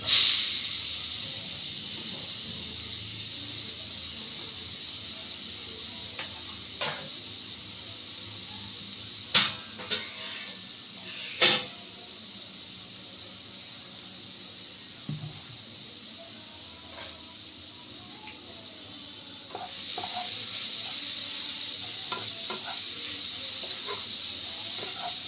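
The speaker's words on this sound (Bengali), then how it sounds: "একটুখানি কালো জিরে ফোড়ন দিয়ে দিচ্ছি" Black cumin seeds tempering in hot oil give a steady, fairly loud hiss and sizzle throughout, with a few sharp pops and crackles standing out along the way.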